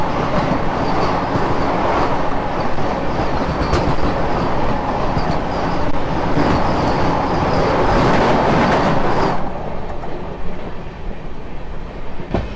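Steady rumble and rhythmic clickety-clack inside a moving Indian express passenger train near Tundla Junction, loud and continuous throughout, the tone dropping and thinning near the end with no voices.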